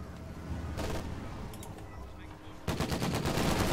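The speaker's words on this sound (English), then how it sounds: "Fighting position machine gun is in place." A machine gun fires in a war strategy video game, with bursts of rapid rattling shots at moderate loudness and a louder, denser volley near the end.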